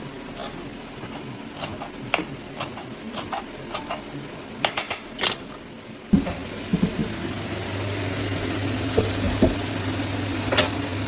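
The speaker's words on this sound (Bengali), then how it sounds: "মাশরুম অনিয়ন কোরিয়েন্ডার একদিকে সতে হচ্ছে" Mushroom, onion and coriander sauté in a pan, giving a steady sizzle broken by the scrape and clack of stirring against the pan; the frying grows louder and fuller partway through, with no talk over it.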